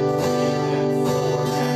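A short stretch of acoustic guitar strumming in a quarter-note pulse, a few sustained chord strokes ringing loud and close with no speech.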